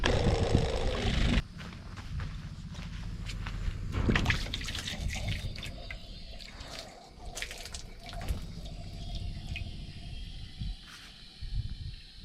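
Water splashes and trickles as it is poured out for chickens, a continuous, fairly close gurgling pour with some rustling and clatter around it.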